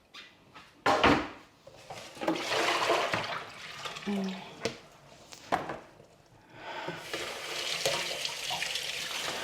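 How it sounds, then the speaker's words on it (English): Broccoli is washed under a running kitchen tap, with water gushing and splashing in waves, a few clunks and knocks from handling, and steady flow near the end. "So washing the broccoli now"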